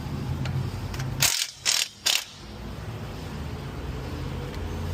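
A ratchet loosens 13 mm bolts on a 2001 Chevrolet Tahoe, with three short close clicking bursts over steady background noise and no talking.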